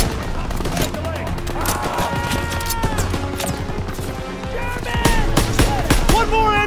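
Rapid machine gun bursts and scattered gunfire from a Call of Duty WWII battle, loud and continuous, with voices shouting over the combat and a heavier crescendo of shots toward the end.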